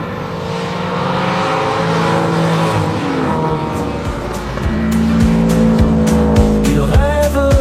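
A race car circles the Lurcy-Lévis circuit in France, its engine droning steadily near the microphone, rising through repeated gear changes, with tire squeal and rev bursts toward the end.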